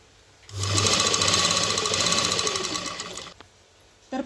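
A sewing machine stitches a zipper onto a cloth vegetable carry bag, whirring loudly and steadily up close for about three seconds before stopping. A brief clack follows.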